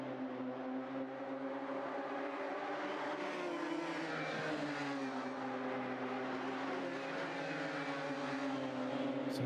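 Race cars in a sim racing video game circuit Donington Park, engines droning and shifting pitch continuously, several cars layered together at steady moderate loudness.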